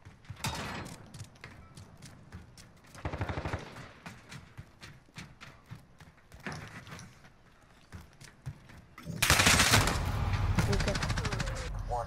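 Video game gunfire comes in rapid automatic bursts, a few short volleys early and then a long loud sustained stretch near the end, with someone talking between them.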